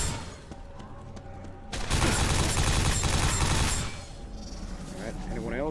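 Bursts of gunfire in Quake 4 as an enemy is shot, loud rapid weapon fire for a couple of seconds after quieter game sounds, with someone talking over the action.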